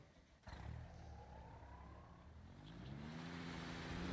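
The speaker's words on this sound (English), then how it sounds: "so it looks like we're gonna have to move this truck" A truck engine in the video game Construction Simulator rumbles close by, its pitch climbing as it revs and accelerates, then settling into a steady, louder drone.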